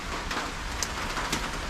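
Rain falls steadily at a new house construction site, a soft, even hiss with a few faint drops standing out.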